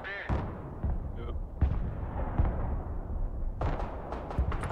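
Artillery fire in the Broken Arrow war game: several heavy booming blasts land across a few seconds, some sharp and close, others rumbling further off, with someone talking over parts of it.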